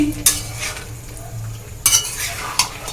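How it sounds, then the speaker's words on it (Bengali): Boiled chickpeas with spices are stirred and sautéed in a pan, a spoon scraping and clinking against the metal in a few sharp strokes over a faint, steady sizzle. "আমি ছোলাটাকে ভালো করে কষে নিচ্ছি"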